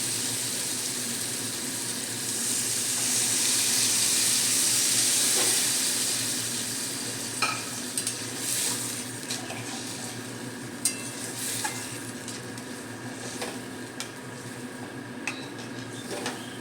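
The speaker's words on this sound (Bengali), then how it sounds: "এবার আমি জল দিয়ে দেব।" Water poured into hot spice paste frying in oil for a mourola fish oil jhal, a loud steamy hiss that swells and then settles into a steady sizzle with a few faint utensil clicks.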